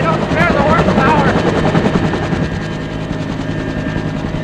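Military helicopter in wartime Vietnam lifting off, rotor thump pulsing loud and steady close by with dense engine roar, a voice speaking over it.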